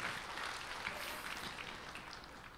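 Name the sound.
congregation applause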